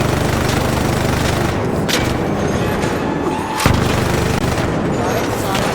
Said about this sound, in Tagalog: Barilin mo nga, Jonathan.